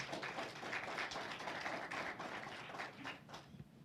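Applause for Chairwoman Lisa Cupid at a county commissioner swearing-in ceremony, a crowd clapping continuously and fairly faintly for about four seconds, thinning toward the end.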